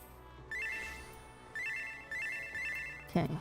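Final Fantasy XIV free company chat notification chime, a short bright electronic tone repeated four times in quick bursts, followed by a brief thump at the end.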